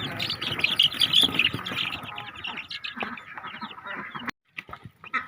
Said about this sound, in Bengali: মায়ের মুরগিগুলোকে একটু হাঁটাইতে নিয়ে গেলাম